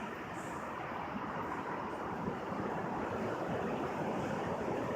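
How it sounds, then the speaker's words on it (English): Big ocean waves crash on the shore in a steady, dense roar of surf that never lets up, loud and close, with wind adding to the noise and no voices. "Look at these waves, man. They're freaking huge."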